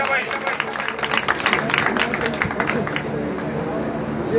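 A crowd claps at a village welcome ceremony honouring a local legislator in India, a burst of brisk applause that swells and fades within a few seconds while voices carry on over and after it.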